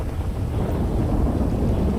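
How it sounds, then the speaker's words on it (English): Thunder rumbles in a GTA 5 thunderstorm with rain, a steady loud low roll filling the whole moment with no voices. "Did you catch all that over the sound of the thunder?"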